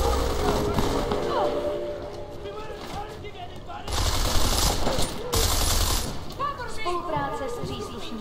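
Gunfire in Deus Ex: Mankind Divided, bursts of rapid shots and louder blasts amid game clatter, with someone talking over the action at points.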